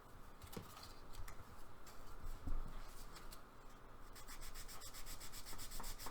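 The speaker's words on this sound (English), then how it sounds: "we'll get a bit of 600, just gently, no pressure. Give it a light sand" 600-grit paper lightly rubbed by hand over a Jaguar E-Type panel, a close, quiet, continuous scratchy sanding with brisk back-and-forth strokes and no talk.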